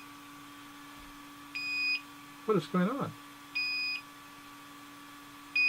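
A DJI Mavic Air drone gives three short, evenly spaced electronic beeps over a steady hum, with a brief spoken question heard between them.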